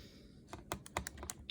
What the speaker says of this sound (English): So I'm gonna basically type this into my calculator.